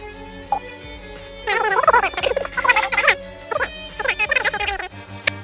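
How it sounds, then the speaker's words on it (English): High-pitched, rapid chipmunk-like chattering voices in quick bursts over a steady hum, sounding like sped-up speech, from sped-up Roblox Build a Boat for Treasure gameplay. "We might speed up the footage as it is deploying, and we might also sound like Alvin and the Chipmunk"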